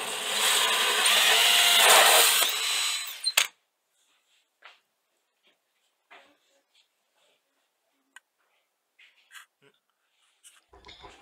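A hole saw cuts the opening for the toilet bowl supply on a wall-hung WC support frame, a loud grinding burst lasting a few seconds before stopping abruptly, followed by faint scattered clicks and a voice.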